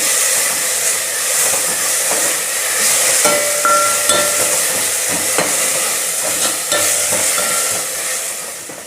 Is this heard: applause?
no